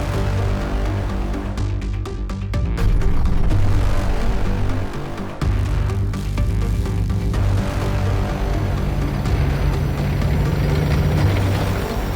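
A propeller airplane on German registration flies over Puck and the Bay of Puck, its loud, steady engine drone filling the whole stretch with slight swells.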